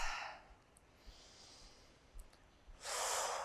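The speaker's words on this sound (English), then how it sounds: "3 rounds of breath." Breathing during a yoga flow: a soft, close breath fades out at the start, then after a quiet pause a fuller airy breath rises near the end.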